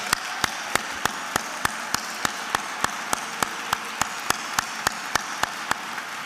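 Audience applause for inducted student scholars at Fordham College Rose Hill's 2023 Encaenia awards ceremony: a steady wash of crowd clapping with one sharp, evenly paced clap standing out close by throughout.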